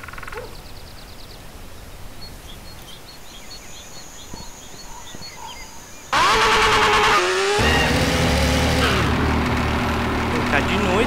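A motorcycle in the video game GTA San Andreas revs loudly and rides off about halfway through, its engine roaring close and steady after a quieter stretch of game ambience, with a voice speaking over it.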